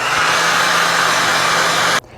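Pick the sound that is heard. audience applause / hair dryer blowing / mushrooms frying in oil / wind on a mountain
hair dryer blowing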